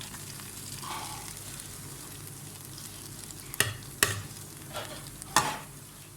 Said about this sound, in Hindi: ये प्याज है और जीरा है, कुछ मैं इसमें डाल देती हूँ